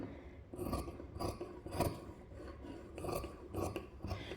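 Scissors snip through thick old track-pant or jeans fabric, a quiet, steady run of rhythmic cutting strokes with faint scraping between them.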